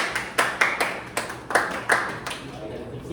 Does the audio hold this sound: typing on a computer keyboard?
no